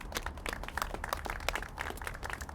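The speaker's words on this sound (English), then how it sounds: "Let's give her a round of applause." An audience at a public event applauds, with a dense patter of many hands clapping steadily for a few seconds at moderate distance.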